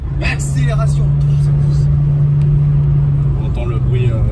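A gendarmerie Renault Mégane 3 RS rated at 400 hp accelerates, its engine drone rising and holding steady from inside the car, loud and close, while people talk over it.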